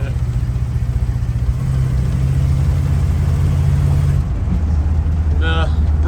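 A 1978 GMC Jimmy drives off after brake and hub repairs, its engine droning steadily up close and then dropping in pitch as it eases off, with some talk and rattle near the end.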